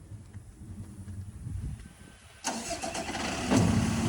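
A 2019 Peterbilt 337 mechanics truck's engine is started by remote: a short cranking burst, then the engine catches and settles into a steady, moderately loud idle.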